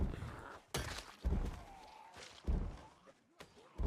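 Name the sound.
zombies banging on doors, from video game Project Zomboid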